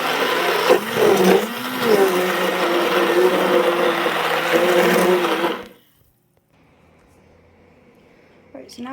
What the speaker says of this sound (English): I'm going to have to use the mixer for just a few more minutes